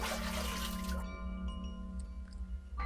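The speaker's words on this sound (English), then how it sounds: "That was a fairly decent bucket filling with water sound file." Water pouring into a bucket as a video game sound effect in Ib, a short rushing, splashy fill with faint dripping tones, quiet and brief with background game music.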